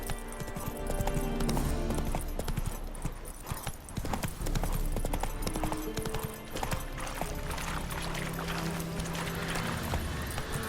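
A horse gallops in The Witcher 3: Wild Hunt, its hooves clip-clopping rapidly and steadily up close. A dense game soundscape plays underneath throughout.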